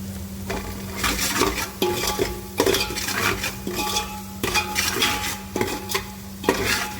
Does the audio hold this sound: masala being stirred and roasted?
yes